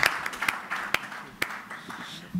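Audience at an EU Energy Day conference in Abu Dhabi applauding the speakers, a brief patter of scattered hand claps in a hall, fading out after a couple of seconds.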